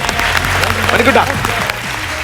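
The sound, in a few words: audience applause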